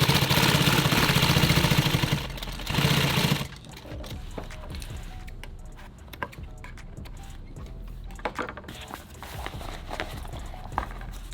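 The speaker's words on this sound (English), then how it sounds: "turn your work when you're sewing through real thick shit" An industrial sewing machine stitching thick nylon tactical gear runs loudly and steadily for a few seconds, pauses briefly, then runs again before dropping to a quieter stretch of handling noise and light clicks.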